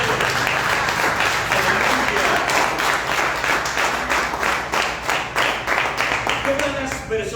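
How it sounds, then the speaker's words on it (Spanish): A church congregation applauds during a sermon with steady, rhythmic clapping throughout, and a voice comes through beneath it. "Dele otro aplauso a mi Padre."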